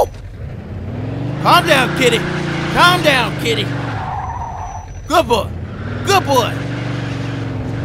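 Car engine revving with repeated tire skids and squeals in the video game Mafia 2, a steady engine drone under several short screeching bursts, with someone talking over it.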